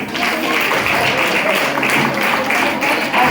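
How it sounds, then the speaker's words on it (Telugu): Audience applause after a devotional dance performance at a stage event, steady dense clapping throughout with crowd noise mixed in. "ఎంతో భక్తిగా క్లాప్స్ ఇవ్వండి ప్లీజ్"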